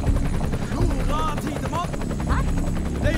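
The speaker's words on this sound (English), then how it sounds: "Helicopter." Loud, close rotor thump of a helicopter in a film scene fills the clip, with voices talking over it.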